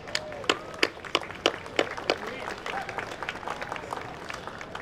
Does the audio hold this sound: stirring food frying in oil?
no